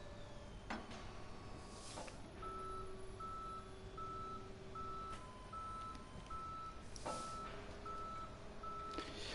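A tow truck in the Police Simulator police game gives out steady, evenly spaced reversing beeps over a constant engine rumble, with a few clanks and thumps from the truck.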